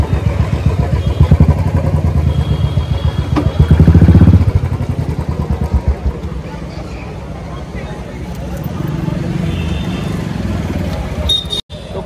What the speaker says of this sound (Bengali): গাইজ বাইক পার্ক হয়ে গেছে